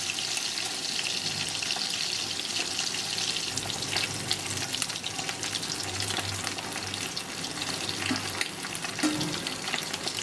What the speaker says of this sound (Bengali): মাছগুলোকে আমি একটু কড়া করে ভেজে নেবো